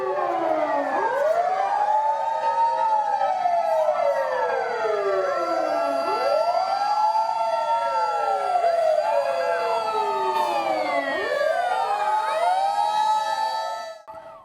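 A fire engine siren wails loudly and steadily, its rising and falling sweeps repeating every couple of seconds and overlapping with other sirens, dispatched to a building fire during a Busan Seo-gu Safe Korea emergency drill at a temple stay facility.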